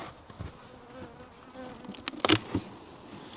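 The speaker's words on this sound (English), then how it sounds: "So there are bees in the top box" Honey bees buzz in the top box of a hive, a steady nearby hum broken by a short burst of knocks and clatter from the box being handled.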